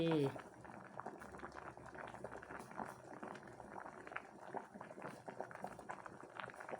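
A pot of mung beans and sweet eggs simmers on a lowered flame, bubbling softly and continuously at close range, with faint scattered knocks and a brief voice at the start.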